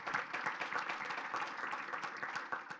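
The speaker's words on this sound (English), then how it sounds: "Carl deserves a round of applause" An audience at a community conversation on transportation in Milwaukee claps steadily in dense, sustained applause, fairly close and with no talking over it.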